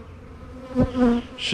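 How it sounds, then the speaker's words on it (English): Bees fly in to check out queen bees in sunny Florida, a close, rising buzz of wings swelling in short bursts, with a brief word spoken. "these bees are coming in checking out these queens"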